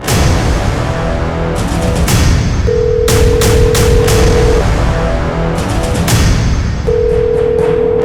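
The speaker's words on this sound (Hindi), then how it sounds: "फोन लगाती हूँ।" A steady telephone dial tone sounds twice in long stretches, partly buried under loud, booming background noise and sharp bursts.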